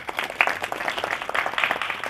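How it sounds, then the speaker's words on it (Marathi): Listeners at a temple satsang clap for the temple's head in a burst of moderately loud applause, busy and uneven with individual claps standing out. "त्यांच्यासाठी आपण टाळ्या वाजवू"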